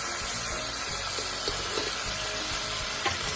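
Soya sauce and chicken frying in a hot pan, giving a steady, loud, continuous hiss and sizzle throughout with a few faint clicks of utensils.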